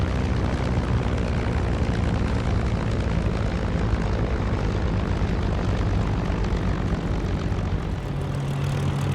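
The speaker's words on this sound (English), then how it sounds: "we landed our planes on the bumpy field and taxied in among some olive trees for cover" Propeller-driven warplanes land on a bumpy field among olive trees and taxi in, giving a steady, loud, unbroken engine drone that fills the whole stretch.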